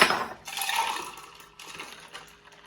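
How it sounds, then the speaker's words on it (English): A cocktail is poured from a shaker into a glass, giving a short splashing liquid pour with faint clinks of ice over a couple of seconds, close and fairly quiet. "So we're going to pour the whole cocktail into a glass."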